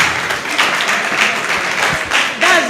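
Audience clapping at a mental health awareness event, a moderate round of applause from a gathered crowd, continuous and fairly loud, with a voice briefly audible near the end.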